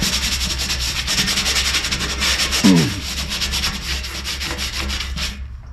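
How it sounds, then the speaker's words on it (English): Steady rubbing of a porous sponge over bare metal on a 1952 Willys pickup, a continuous close scrubbing texture with one brief louder swipe midway, no talking. "we're going to kind of rub it in with a porous sponge here."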